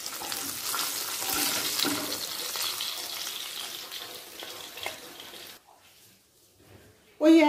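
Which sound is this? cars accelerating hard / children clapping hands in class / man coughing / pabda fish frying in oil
pabda fish frying in oil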